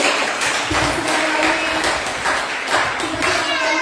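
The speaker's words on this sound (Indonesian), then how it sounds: "boleh kasih tepuk tangan dulu." A church congregation claps together during a Sunday service, a loud, uneven patter of hands with a few sharper bursts. The room's voices murmur faintly underneath.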